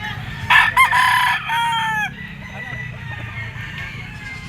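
An Allen Roundhead rooster crows loudly and close in one drawn-out call, with clucking and farmyard noise around it.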